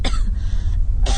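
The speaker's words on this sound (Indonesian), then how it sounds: "suara orang batuk-batuk itu sepertinya terdengar dari lantai bawah" A person coughs in a short, close, loud burst, a sound effect for a radio horror story set in a house, the coughing sounding sick and coming from the floor below.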